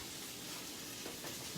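Roasted potatoes sizzling in a hot pan with salmon and okra cooking nearby, a steady, faint frying hiss with a few soft scraping touches of a spatula.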